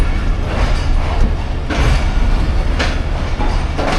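The Khyber Mail passenger train rolls on rails between Rawalpindi and Attock, with a loud, continuous rumble and rhythmic clatter of wheels, heard close from onboard with no talking.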